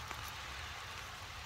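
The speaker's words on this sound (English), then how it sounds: "The rain's coming down hard enough at this point that I actually have to get the camera underneath a little hemlock here." Heavy rain pours steadily in a hemlock forest, a dense, even hiss of drops on foliage and ground with no other sounds over it.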